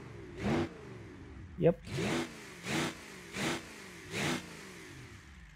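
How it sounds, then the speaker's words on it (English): A V8 diesel engine's exhaust revs in the driving game Automation, five or six short, loud bursts rising and falling in a steady rhythm, with a brief spoken word between them. "Listen to the exhaust."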